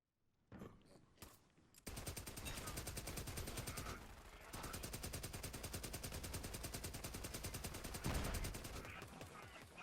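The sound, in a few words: Atlas pistol gunfire in Borderlands 3 video game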